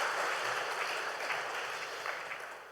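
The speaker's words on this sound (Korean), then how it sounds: "우리 따뜻한 박수 한번 보내주시기 바랍니다" A church congregation applauds newly registered members during a Sunday worship service. The clapping is soft and steady and sounds a little distant, then tapers slightly toward the end.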